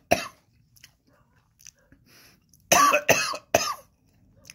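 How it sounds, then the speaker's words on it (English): Coughing after a bite of a sandwich with horseradish sauce and pepper jack cheese: one sharp cough, a few faint mouth sounds, then a close burst of three harsh coughs. "That's a horseradish cough."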